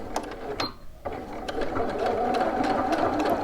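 A sewing machine back stitches along a pants seam, running close and steady with a brief pause near the start before settling into continuous rapid stitching.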